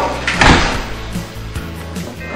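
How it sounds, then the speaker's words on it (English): A 1957 GMC pickup truck door swung and closed during a restoration job, a loud thud near the start followed by softer rattles and knocks of the loose door, close by with no talking. "That door won't stay."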